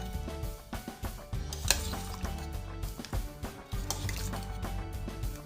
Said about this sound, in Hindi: इसमें अब हम थोड़ा सा धनिया पत्ता ऐड करेंगे और इसको मिक्स करेंगे